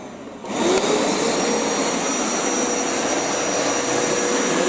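A Hoover Power Scrub Elite Pet carpet cleaner powers on after a brief silence and settles into a loud, steady, high-pitched motor roar that continues unbroken to the end.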